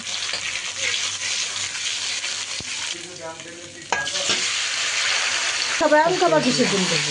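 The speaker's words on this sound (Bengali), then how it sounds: "দিয়ে দিচ্ছি যে বাটা মশলা, আদা রসুন পেস্ট দিয়ে এবার আমি নেড়ে নেব" Ginger-garlic paste sputters and crackles loudly in hot oil with panch phoron spices. A spoon scrapes and stirs it in the pan, and a voice briefly speaks over the sizzle.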